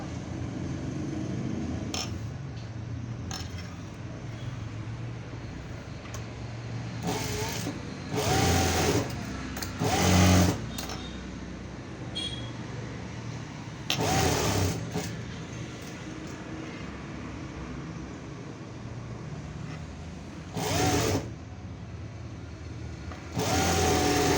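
Sewing machine stitching a boat-neck blouse, running in repeated bursts of steady mechanical whirring with short pauses between them, fairly close and with no talking.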